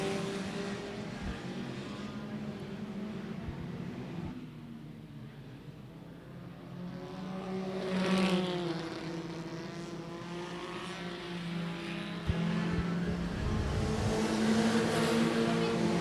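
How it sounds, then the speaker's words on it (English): Modified production race cars, including an orange Toyota Corolla, lap Gympie Speedway at night, engines droning and swelling as they pass at a distance, with steady roar throughout and no voices. "The orange Toyota Corolla of Scott McDermott, that car's for sale"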